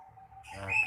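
Birds at a bird market give thin chirps and tweets, faint and mid-distance, and a bright whistle rises near the end over a low hum of background noise.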